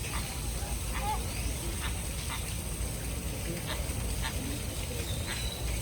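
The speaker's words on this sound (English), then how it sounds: "nice flamingos." Flamingos near Cartagena, Colombia give short honking, goose-like calls in scattered bursts at middle distance over a constant broadband ambient wash.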